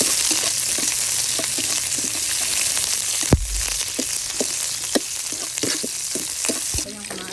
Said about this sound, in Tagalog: gisa tayo ng bawang. Ay, kasama na yung sibuyas tuloy